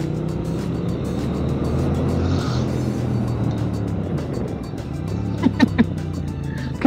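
A Triumph Speed Twin motorcycle engine, the 900 or 1200, holds a steady, fairly loud high-revving drone under wind rush on a test ride, with a few brief sharper bursts near the end.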